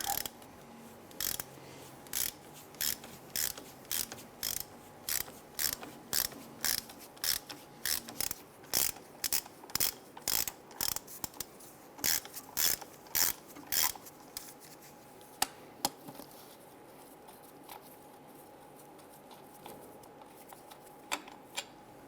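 Ratchet wrench working a 15mm bolt off the steering stabilizer damper of a 1999-2004 Jeep Grand Cherokee, giving a long run of quick, evenly spaced clicking strokes up close, then a pause and a few scattered clicks.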